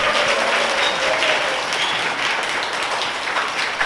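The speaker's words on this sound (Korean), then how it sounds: "김진애 선생님 박수로 환영해 주세요" A studio audience at a Korean book talk bursts into sustained applause to welcome a guest, a dense wash of many hands clapping steadily and fairly loud throughout.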